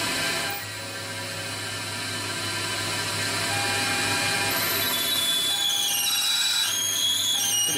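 Lathe turning down a knife handle spacer at 1000 RPM: a steady mechanical whine with a rising high-pitched tonal squeal as the cut bites, loud and continuous, without talk.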